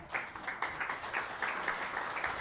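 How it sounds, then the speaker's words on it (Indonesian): A congregation applauding during a church service, many hands clapping in a soft, fairly steady patter heard from a distance, with no voices over it. "Kalau tepuk tangan gak usah ragu-ragu"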